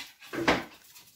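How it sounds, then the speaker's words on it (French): A dog gives a single brief, close whimper, a short whining cry that rises and fades quickly in a quiet room. "Le chien est en crise."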